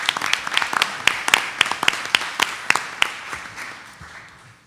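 A council meeting audience claps together in a brisk burst of applause for a staff member's birthday, loud and close at first, then thinning out and fading to a few scattered claps.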